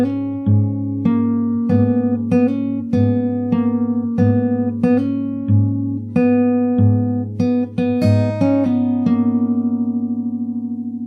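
A clean guitar plays a steady, repeating chordal pattern and ends with a short, quicker fill of higher notes before the final chord rings out and decays, with no talking.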